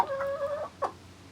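A rooster gives a drawn-out cluck followed by a short second cluck, close by and fairly quiet.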